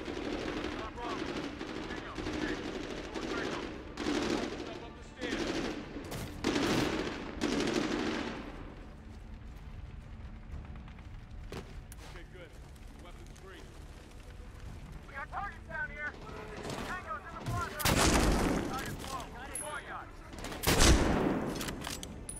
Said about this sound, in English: We provide covering fire.